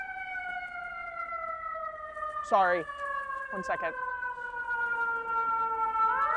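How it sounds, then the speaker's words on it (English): A wailing emergency siren rises and falls steadily in the distance, with a brief spoken remark partway through. "Okay, hold for sirens."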